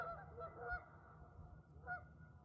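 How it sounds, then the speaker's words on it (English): Geese honk in a few short bursts before taking off, moderately near, with a low background hum between the calls and no talking. "Sounds like the geese are getting ready for a takeoff."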